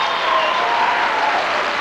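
Audience applause fills the hall, a dense, steady wash of many hands clapping at even loudness throughout, with no voices over it.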